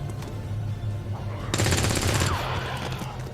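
Burst of automatic weapon fire in the XCOM 2 strategy video game, a loud rapid rattle lasting under a second amid game ambience and background hum.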